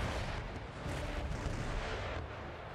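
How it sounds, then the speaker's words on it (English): Artillery fire from an Empire Total War battle: dense, continuous booming cannon volleys that roll into one another as a steady, heavy rumble. "Oh, they're engaging the artillery still."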